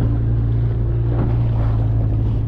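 Wind on the shore of Segozero lake in Karelia during stormy weather gives a loud, steady roar and rumble of buffeting across the microphone with no voices.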